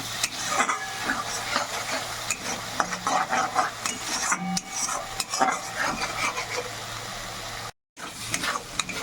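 Bengali spice paste frying in oil in a pan for Tangra fish curry, with steady sizzling and repeated scraping stirs of a spatula against the pan, close and continuous, with a very brief drop to silence near the end.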